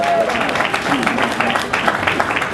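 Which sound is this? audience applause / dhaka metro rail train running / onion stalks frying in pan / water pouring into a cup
audience applause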